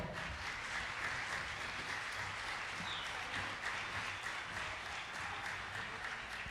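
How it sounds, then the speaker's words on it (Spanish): Warm, sustained applause from an audience sending off a doctor after an academic talk on generative AI and higher education, a dense steady patter of many hands lasting throughout. "despedimos a la doctora con un cálido aplauso."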